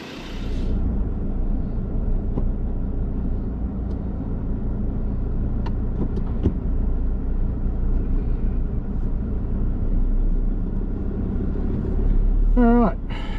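A car drives along Prickly Ridge Road, a country route in the Watagans, with a steady low engine and road rumble throughout and a brief vehicle sound near the end.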